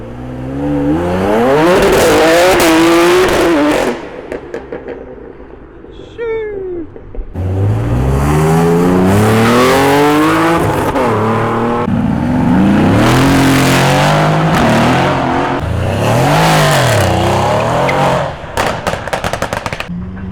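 A loud supercharged BMW M3 revs hard at close range, its engine note sweeping up and down in repeated blasts with crackling pops between pulls, and supercharger whine layered over the roar.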